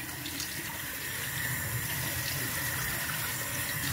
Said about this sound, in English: then you're gonna rinse that off, of course.